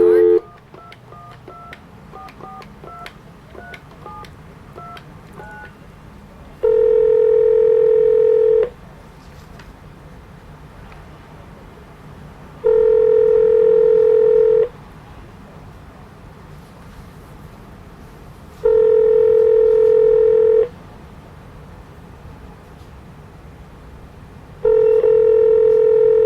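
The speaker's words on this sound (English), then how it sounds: "I'm going to make one last call to the city of New York." A telephone call being dialed: a rapid run of DTMF keypad tones, then a repeating ringback tone in four long, evenly spaced bursts with quiet gaps between.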